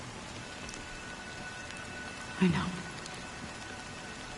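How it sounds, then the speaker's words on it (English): Steady rain falls in the video game Honkai: Star Rail as a continuous, even wash of patter, with a short spoken line and a soft thump partway through. "But it's still raining."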